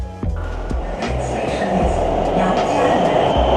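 A subway train in China rolls along with a loud, steady low rumble and rhythmic wheel clicks on the rails, heard from inside the carriage.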